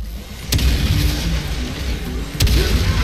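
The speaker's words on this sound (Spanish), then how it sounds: "Para tres disparos que pego y los tres los he fallado." Two loud gunshots ring out a couple of seconds apart in the video game Saints Row IV over a steady rumbling game background, each a sharp close blast.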